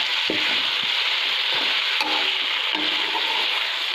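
Shinwari beef being stirred with salt in a pot over loud, steady sizzling, with occasional scraping knocks of the spoon against the pot.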